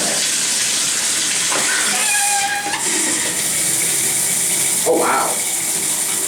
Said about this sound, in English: Go and turn on the water.